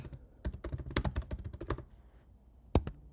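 Keys clatter in quick bursts on a computer keyboard while a git commit message is typed, a steady run of close taps followed by a pause and one last louder keystroke.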